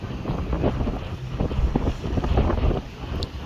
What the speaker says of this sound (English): and wind is increasing